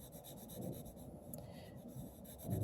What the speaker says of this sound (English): So I'm going to just kind of draw this in.